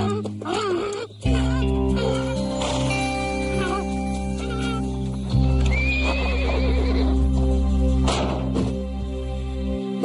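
A horse whinnies loudly and close by over steady clip-clopping hooves, with more neighs breaking through partway along; a voice is faintly heard at moments.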